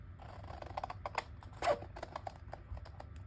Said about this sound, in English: So I'm just gonna use my scissors.